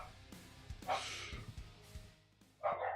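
A dog gives two short, breathy barks with a snort-like gasp between them, close and fairly sharp against a quiet indoor background.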